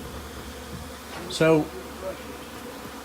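Angry bees from a 15-year-old hive buzz in a low steady drone, with one loud close pass of a single bee sweeping by; a voice speaks briefly.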